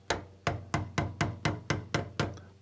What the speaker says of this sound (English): I use a chisel or screwdriver and a hammer and tap the lock nut